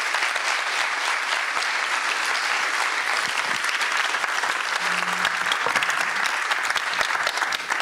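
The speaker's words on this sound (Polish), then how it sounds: "Wielkie brawa." Steady, dense applause from a large audience at an outdoor film event in Kraków, continuous clapping filling the space with no speech over it.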